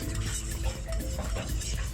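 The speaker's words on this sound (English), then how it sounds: "So I give it a good stir." Pre-prepared puree paste being stirred in a wok for sweet and sour spare ribs, a continuous scraping, sizzling stir with clattering utensil scrapes at close range.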